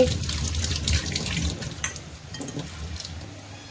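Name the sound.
washing a spoon under running water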